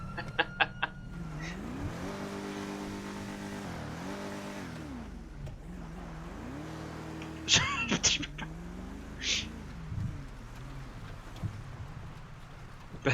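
Car engine in a driving video game, its pitch rising and falling through repeated revs and gear shifts, steady and close, with a few brief sharper bursts near the end and no talk over it.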